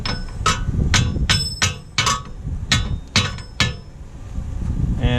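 A hammer taps a wheel bearing into place on a 2007 VW Jetta front hub, giving about eight sharp, close metallic clinks at an uneven pace over a low background rumble.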